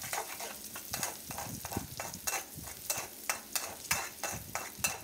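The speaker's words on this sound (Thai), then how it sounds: "ให้เราผัดให้หอมกระเทียมของเรานะครับแตกกลิ่นหอมเลยครับ" Sliced shallots and chopped garlic stir-fried in a pan for pork belly with shrimp paste, a steady soft sizzle broken by rhythmic scrapes and taps of a spatula, close but fairly quiet.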